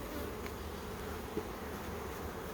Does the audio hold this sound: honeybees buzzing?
yes